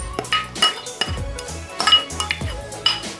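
A utensil stirs and mixes guacamole with chopped onion and coriander in a bowl, giving repeated scraping strokes and metallic clinks against the bowl at a steady, close rhythm, with no talking.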